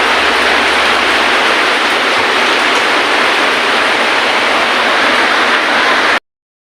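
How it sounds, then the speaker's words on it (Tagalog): Steady, heavy rain pours as a dense, even hiss at a birthday gathering, loud and unbroken for about six seconds before cutting off abruptly. "Ulan."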